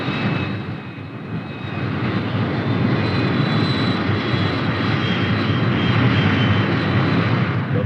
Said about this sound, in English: Back at the base, the fighter bombers take off.